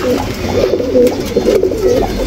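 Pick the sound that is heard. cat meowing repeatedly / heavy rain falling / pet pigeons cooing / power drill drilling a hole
pet pigeons cooing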